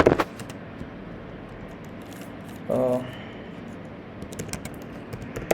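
Clicking keystrokes on a computer keyboard come in short bursts near the start and again toward the end, with a quieter stretch of steady room noise and a brief tonal sound in between.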